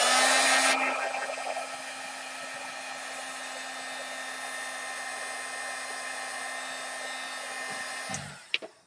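Hair dryer blowing on a craft piece, a loud steady whirring hum that softens slightly after the first second, runs alone for several seconds, then cuts off with a couple of clicks.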